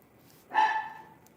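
A dog gives a single sharp bark at moderate distance, breaking an otherwise quiet background.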